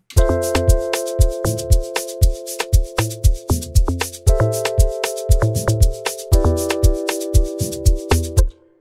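A punchy, pitched amapiano log drum pattern bouncing through a melodic groove, with steady percussive hits and tonal bass notes throughout, no voices.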